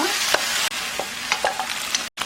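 Button mushrooms stir-fried with onion, chili, paprika and a spoonful of oligosaccharide syrup over low heat, giving a steady close sizzle with repeated spatula scrapes and a brief dropout near the end.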